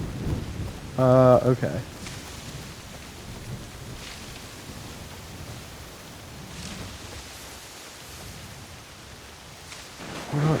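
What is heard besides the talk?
rain and thunder in video game Assassin's Creed Shadows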